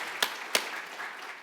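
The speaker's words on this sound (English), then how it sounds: "So just a round of applause for all of the abstract presenters." Scattered audience applause for abstract presenters at a spine conference, with a few sharp, distinct claps standing out over a soft, steady background of clapping.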